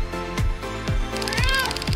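A kitten meows repeatedly at close range, giving several short, clear mews in a steady rhythm against a faint background.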